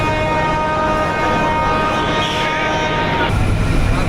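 Padma Express passenger train at a station at night, a steady broad rumble of the engine and cars with a sustained horn-like tone running through, then a shift near the end as it begins to pull away.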